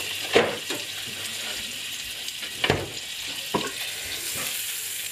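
Slices of egg-soaked bread frying in butter in a hot pan give a steady sizzle, broken by a few louder crackles and shuffling scrapes as they are moved about.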